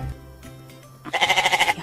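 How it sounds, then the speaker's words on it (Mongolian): Goat bleating close by in a single wavering, pulsing call that follows a brief low lead-in. "Ямаа майлж байна."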